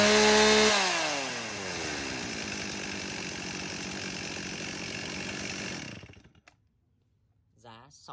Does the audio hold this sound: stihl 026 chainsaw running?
yes